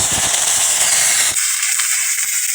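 Curry leaves hit hot oil in a wok, a loud close hissing sizzle that drops off abruptly halfway through, leaving a thinner high hiss.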